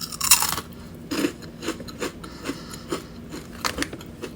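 Crunchy extra cheddar mac stuffed snacks bitten and chewed close up, a sharp first crunch followed by a steady series of softer chewing crunches.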